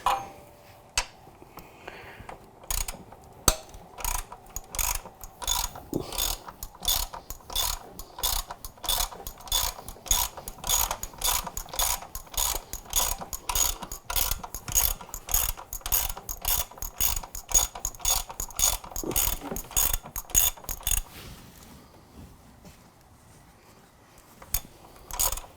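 A ratchet fitted with a 12mm socket loosens exhaust bolts on a Yamaha R6 motorcycle, producing fast, steady clicking runs near the microphone, broken by short pauses, before it slows and stops.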